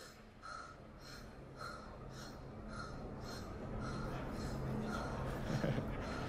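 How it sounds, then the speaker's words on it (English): In a Star Citizen first-person shooter module, a game character breathes in a steady, rhythmic series of about ten audible breaths over a constant hissing background hum while moving. "you can hear the breathing now as he starts to move"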